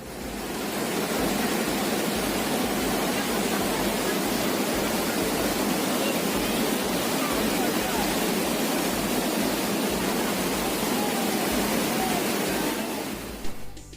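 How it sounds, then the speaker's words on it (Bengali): Powerful, unbroken roar of Usri waterfall in Jharkhand rushing close by over rocks, a thick wall of noise that stays level throughout. "এখানে ঝর্ণার জলের কি আওয়াজ,"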